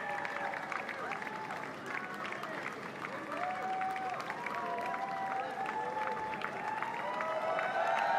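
A large crowd at a 2024 general election result event applauds and cheers, a continuous dense wash of clapping and cheering under a prominent voice.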